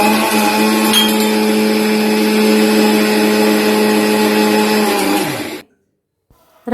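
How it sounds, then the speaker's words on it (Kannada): A mixer grinder whirs loud and steady as it grinds soaked ragi with a little water, a constant motor drone for about five seconds before cutting off abruptly into near silence. "ಇವಾಗ ಇದನ್ನ ಮಿಕ್ಸಿಲಿ ರುಬ್ಕೊಳ್ತೀನಿ ಒಂದ್ಸಲ"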